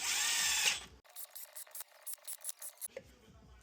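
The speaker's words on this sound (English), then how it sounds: "What I like to do is snug them down with the gun, once again on setting 1." A pneumatic impact gun on setting 1 snugs down intake manifold bolts on an Audi 3.0T engine, giving a loud opening burst followed by a rapid series of short, close hammering rattles.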